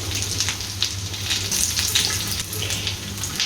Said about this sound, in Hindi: पहले इसकी एक साइड पकाते हैं फिर इसकी दूसरी साइड पकाएंगे